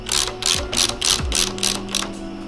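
A ratchet fitted with a 10 mm socket tightens the lever bolt on an Indian Scout Bobber motorcycle: a close, loud run of rapid clicking pawl strokes in about seven quick bursts, with no talking.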